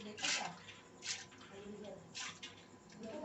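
Water splashes and pours into a pot of haleem in a home kitchen, arriving in a few loud gushing bursts with quieter sloshing between them.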